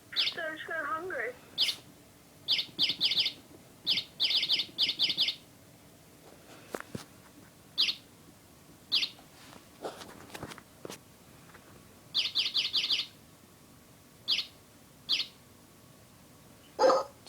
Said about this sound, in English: She likes the bird and the dog sound the best.